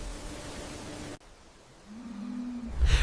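A beef cattle mooing once, a drawn-out low call rising out of a steady windy hiss near the end, heard fairly close with no voices.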